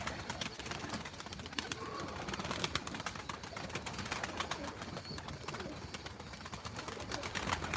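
Tumbler pigeons in a loft, with young birds among them, give a steady backdrop of soft cooing and bird calls, punctuated by scattered clicks and light flapping, close and fairly constant throughout.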